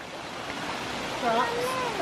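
A waterfall on a forest hike in Germany rushes in a steady broad hiss, with people talking nearby over the constant water noise.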